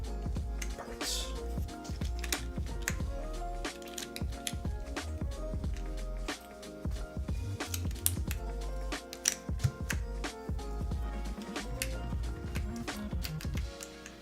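Someone types on a mechanical keyboard with Cherry switches and an aluminum plate, producing a steady stream of close, crisp clacks in rapid irregular bursts with brief pauses.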